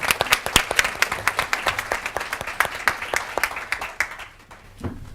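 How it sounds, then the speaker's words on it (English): An audience at a panel discussion breaks into a round of applause, crisp individual claps rapid and close at first, then thinning out and fading toward the end. "Let's give a round of applause for Jason and welcome him to the podium."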